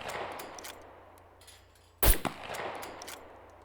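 A single sharp .22 rifle shot in the video game SCUM, loud and abrupt with a brief ringing tail, standing out against faint background ambience with no talking.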